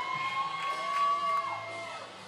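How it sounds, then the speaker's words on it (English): A college hockey crowd at a George Mason versus UNC-Wilmington game cheers and whoops at moderate distance, a swelling mass of voices with a sustained tonal call cutting through before easing off. "Crowd getting into it."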